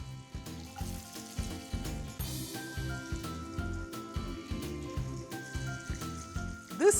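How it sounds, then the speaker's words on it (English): Onions fry in hot oil for an Indian tadka tempering, a steady close sizzle with rhythmic popping and crackling that keeps going throughout. "Now I have to let all this fry very well and the onions to become soft."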